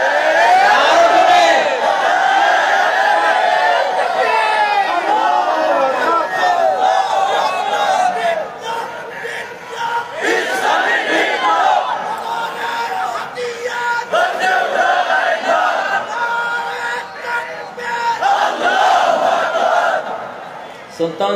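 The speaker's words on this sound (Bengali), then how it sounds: "আমাদের স্লোগান হলো নারায়ে তাকবীর।" A large crowd at a rally chants the slogan Nara-e-Takbir, loud massed voices rising and falling in repeated shouted calls and responses that continue steadily without pause.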